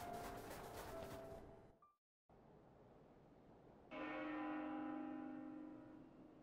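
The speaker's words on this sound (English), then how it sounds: "this is where the bell was ringing." Church bells ringing in the video game Xenoblade Chronicles 2 at Elysium, with sustained ringing tones and reverberant decay that cut out briefly and then return fuller and louder, with no talking.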